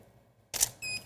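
A camera shutter fires once, a sharp close click after a moment of quiet, followed by a faint electronic beep.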